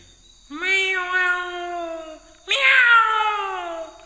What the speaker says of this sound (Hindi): एक बिल्ली म्याऊं म्याऊं आवाज करते कहीं से एक रोटी लाती है